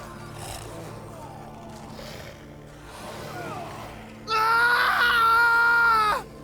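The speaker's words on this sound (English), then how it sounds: "A scream. A man's, I think." A man screaming in the video game Thronebreaker: The Witcher Tales, a loud sustained anguished cry bursting out for about two seconds near the end, after quieter muffled background sounds.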